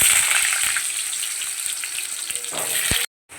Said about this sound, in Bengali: তো এই যে আলুগুলো ওর মধ্যে ভাজা বসিয়ে দেবো।